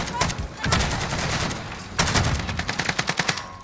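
Bursts of Cold War AK assault rifle fire in the shooter game Warzone, loud and close, with sustained automatic volleys, then a run of rapid evenly spaced shots near the end.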